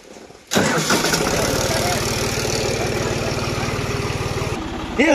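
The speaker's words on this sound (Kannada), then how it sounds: "ಗಾಡಿ ಹೋಗತ್ತೆ" A vehicle engine cranks and catches abruptly, then settles into a loud, steady, rhythmic idle thrum for several seconds before dropping off near the end.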